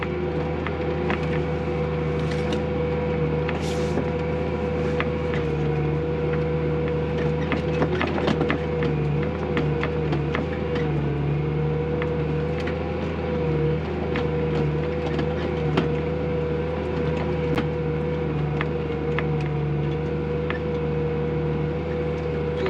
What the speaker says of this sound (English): I think the power harrow might have to do a better job with this, but it is pulling some of it down